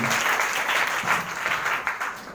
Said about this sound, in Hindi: सार के लिए इतना ताली काफी है क्या? जोरदार ताली बजाना चाहिए दोस्तों।